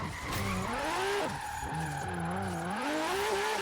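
Nissan Skyline in Forza Horizon 3 skids with squealing tires while its engine wavers up and down in pitch, loud and close throughout a short stretch.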